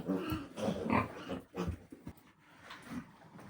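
Young piglets on a farm being raised for fattening, with a run of close grunts, squeals and snuffling noises that come in irregular bursts without pause.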